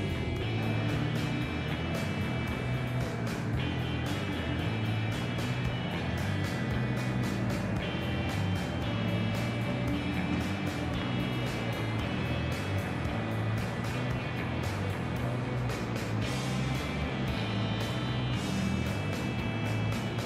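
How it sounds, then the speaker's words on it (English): A Porsche Taycan electric car drives with its artificial sport engine sound switched on, a steady synthetic hum with faint tonal whine riding over continuous road and cabin noise for the whole stretch. "you can hear the quote unquote engine revving with the accelerator, but it's fake"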